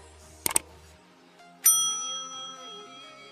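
A bright electronic phone startup chime rings out once, its tone lingering and fading over a couple of seconds after a brief pair of clicks.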